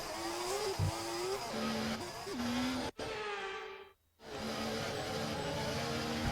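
A Formula 1 race car engine in the F1 24 video game screams loudly and continuously, its pitch rising and dropping through gear shifts, with a brief cut and a near-silent gap before the roar resumes.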